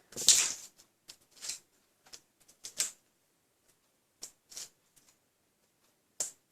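Adhesive foam dimensions are peeled off a backing sheet in quiet, close crackling bursts and small ripping ticks, spaced irregularly with silence between them.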